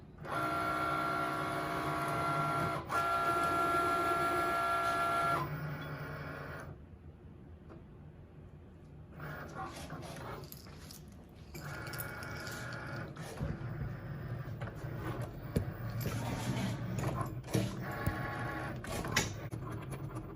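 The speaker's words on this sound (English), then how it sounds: "here we have the Cricut C. And we are going to get this cut." A Cricut cutting machine cuts iron-on vinyl with a steady mechanical whir and hum. A brief lull is followed by renewed motor noise and faint rhythmic clicking of the carriage moving, all close and moderately quiet.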